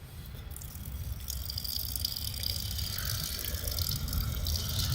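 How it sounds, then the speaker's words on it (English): Water drains from a residential sprinkler system pipe being winterized, a faint steady gush and trickle with light rattling that builds slightly and then holds, with no talk. "That's just draining any water that's in here and in this pipe, and also the pipe coming from the house."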